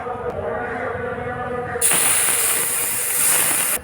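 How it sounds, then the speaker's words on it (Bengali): Water poured into a hot kadai of oil bursts into a loud, sustained steaming hiss that starts suddenly and runs to the end, after a quieter stretch of background bubbling. "এবার কড়ার মধ্যে জল দিয়ে দেব বেশ কিছুটা"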